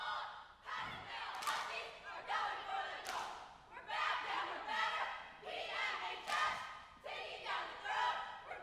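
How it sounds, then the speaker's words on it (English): A high school game crowd cheers and shouts in repeated loud bursts of chanting voices with thumps between them, echoing in a large space. "And now the cheering."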